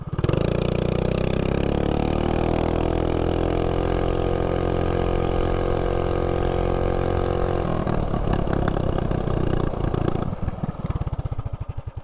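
An MB 200 mini bike engine with a 196 motor and 60 sprocket drones loudly and steadily, climbing in pitch during a 0 to 30 run before dropping and sputtering near the end.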